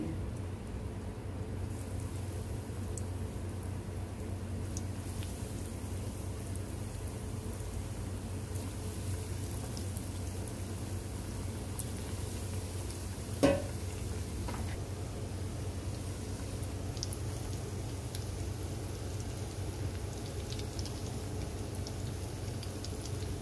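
Bread samosas fry in hot ghee with a continuous, even sizzle, like light rain, that carries on unbroken, with one sharp click about midway.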